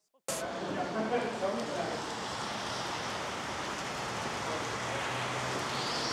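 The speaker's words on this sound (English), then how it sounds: "I wish this rain would piss off." Steady rain falls outdoors where a lawn mower is being collected, making a dense, close, continuous hiss that starts abruptly and keeps an even level throughout.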